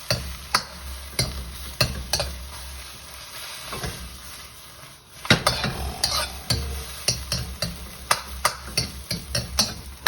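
A vegetable egg foo yung fries in a pan with a steady sizzle while a spatula taps and scrapes in a quick, irregular rhythm. It is close and fairly loud, briefly pausing midway, with no speech.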